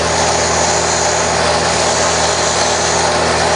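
Steady, loud whine of a bench grinder shaping a wire point on aluminum or steel wire, running continuously without pause.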